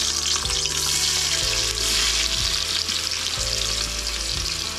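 Chopped onion fries in hot oil in a pan for veg pulao, giving a continuous bright sizzle with a few periodic knocks and scrapes of the pan or spoon, close and loud with no talking.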